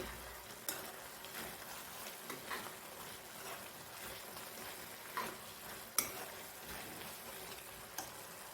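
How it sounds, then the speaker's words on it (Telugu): Grated carrot frying in sugar syrup for carrot halwa, a soft continuous sizzle broken by occasional stirring taps and scrapes, fairly quiet and with no talking. "ఈ పంచదార పాకంలో క్యారెట్ తురుము వేగుతూ ఉంటుంటే మంచి అరోమా వస్తుంది"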